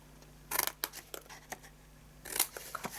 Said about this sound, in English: you just cut off all your corners and leave yourself with some tabs, and again cut into those